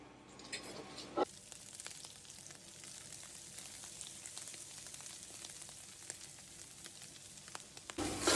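Flour cooks in rendered sausage fat in a pan to make a roux for gravy, with a steady, soft sizzle and crackle, a couple of sharper clicks of a utensil, and no talking over it.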